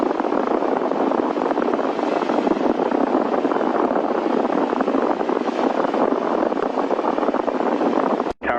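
An airplane takes off, heard as a steady, loud roar of engine and rushing wind from inside the aircraft that holds constant for several seconds before cutting off abruptly.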